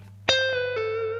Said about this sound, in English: This is 12 on B. I'm going to pre-bend,